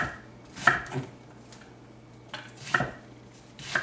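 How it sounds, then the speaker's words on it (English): A knife dices an onion on a cutting board in two short bursts of sharp, quick chopping knocks separated by a quiet pause, close and clear with no voices. "the less you cut this onion, the less you beat it up"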